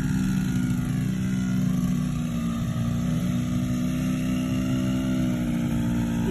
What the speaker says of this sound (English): driving the four-wheeler for the first time by himself.